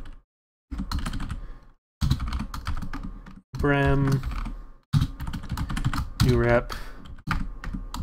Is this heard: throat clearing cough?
no